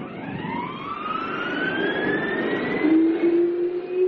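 A jet-powered jeep engine, made as a sound effect for a science-fiction radio drama, spools up as a loud rising whine that climbs steadily in pitch over a rumbling roar, with no voices.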